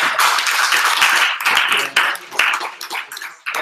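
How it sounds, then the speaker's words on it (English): Applause from an audience at an entrepreneur social evening on virtual and augmented reality, dense and steady for a few seconds with slight dips, fairly close and filling the room. "give me a round of applause"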